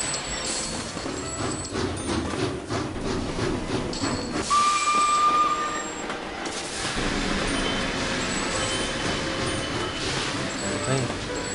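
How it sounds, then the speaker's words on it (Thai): A strange train sound from the Sid Meier's Railroads video game on a Great Britain map: hissing steam and rolling rail noise with a short high whistle in the middle, under a voice talking. "ไอ้เสียงหุ่นรถไฟแปลก"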